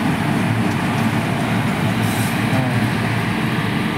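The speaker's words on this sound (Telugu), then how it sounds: "అందుకని ఇవన్నీ చాలా వరకు అన్నీ గూడ్స్ ట్రైన్స్ ఉంటాయి." A goods train at Bhiwandi station produces a close, loud and unbroken rumble of rolling wagons, with faint metallic rattling throughout.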